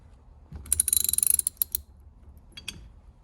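A ratchet wrench tightens bolts during a Vega steering wheel swap, giving a quick run of about a dozen close, crisp clicks, then a few scattered single clicks, with no talking.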